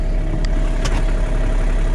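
A John Deere 3046R cab tractor idles steadily with a low, even engine hum, a couple of faint clicks over the top and no talking.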